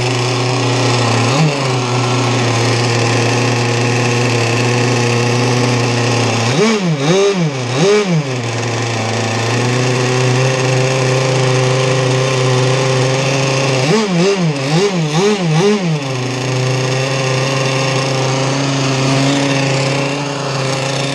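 A Zenoah marine engine runs loudly and steadily on a test run after a rebuild, holding a buzzing idle with two rounds of wavering revs that rise and fall, close up.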